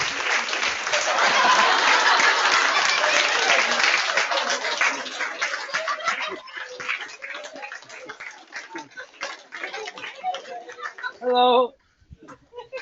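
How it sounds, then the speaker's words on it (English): Applause from an audience welcoming actor Sir Mark Rylance at a school drama Q&A, a dense loud burst of clapping that slowly thins into scattered claps, with a voice speaking near the end. "I'd like you to give Sir Mark Rylance a huge round of applause"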